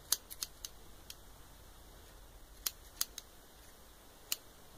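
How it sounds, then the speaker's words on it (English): Scissors snipping the tips of hair during a haircut, a series of faint, sharp snips in small irregular bursts against quiet background. "comb it, fold it, and you want to snip it, just the little tips of them."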